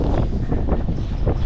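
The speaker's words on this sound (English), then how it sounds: "Very windy up here." Strong wind gusting across a microphone high on a mountain at the Fort William downhill track, a loud low roaring buffet that swells and eases with no speech.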